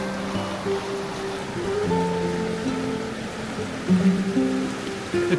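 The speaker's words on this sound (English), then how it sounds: "The creek is running really high and fast through here." Big Pine Creek runs high and fast, giving a steady, close rushing of water with a broad hiss and low churning that swells briefly near the end, with no voices.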